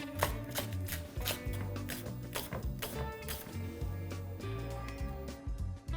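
Rapid, uneven knife chops through leeks tap against a cutting board, a busy rhythmic clatter with no talking.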